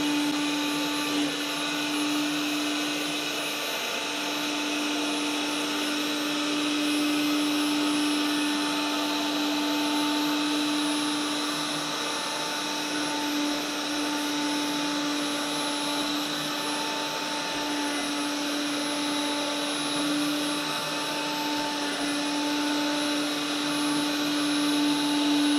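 A HOBOT 298 Ultrasonic window cleaning robot runs with a steady, loud whirring hum of its motor and suction fan. The hum stays constant and unbroken throughout with no speech.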